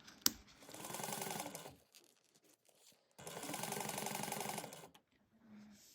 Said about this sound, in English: we're going to top stitch at 1/8 of an inch